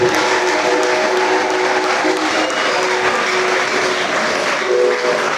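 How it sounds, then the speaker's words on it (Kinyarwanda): A congregation at a Rwandan church service claps for God in loud, sustained applause, dense and even, with faint tonal hum running underneath. "tuyibangira amashyi Imana yakoze imbere"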